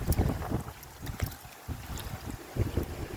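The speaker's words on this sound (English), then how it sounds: "The wind's really picking up." Strong wind gusts hit the microphone in loud, irregular bursts beside cold water on a 25-degree day, roaring and easing in uneven waves.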